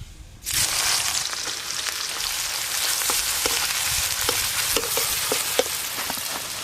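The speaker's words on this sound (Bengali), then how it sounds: "তেল খুব ভালো করে গরম হয়ে গেছে, যেহেতু বেরেস্তা মাছ রান্নাতে দেব, তাই সর্ষের তেলেই ভেজে নেব।" Sliced onions hit hot mustard oil and burst into a loud, steady sizzle, frying into beresta with crackling pops and occasional stirring scrapes throughout, close and continuous with no talking.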